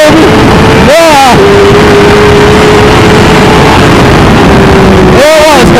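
A motorcycle engine runs loud and close during a clutch-up wheelie, with a steady held drone and two sharp rising-then-falling revs at the start and near the end, wind noise throughout.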